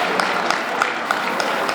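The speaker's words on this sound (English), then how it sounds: "Let's give the Malaysian American community a big round of applause" An audience at a community program honoring the Malaysian American community applauds, a brief, fairly loud patter of many hands clapping with no talk.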